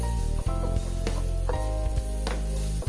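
Finely chopped onion fries with vegetables in a pan, a loud close continuous sizzle broken by repeated spatula scrapes and stirs, with no voices.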